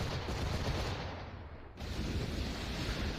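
Cannon volley in the pirate naval game Assassin's Creed IV Black Flag: dense, sustained roaring blasts of broadband noise with a short dip midway, loud and close.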